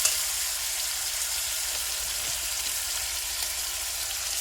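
Ginger and garlic spice paste frying in a pan for chicken biryani: a steady, even hiss of sizzling oil close up, holding constant throughout with no speech.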